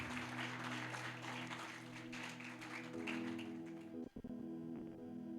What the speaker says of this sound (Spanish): Dale un aplauso al Señor con ganas si se lo querés dar y con fuerza.